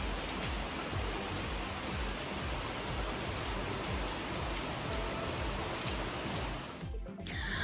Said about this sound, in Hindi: सुंदर सी बारिश हो रही है बाहर।